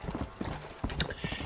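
Horse hooves clip-clop in the video game Red Dead Redemption: Undead Nightmare, a quick close rhythmic series of hoofbeats with a brief louder clatter partway through.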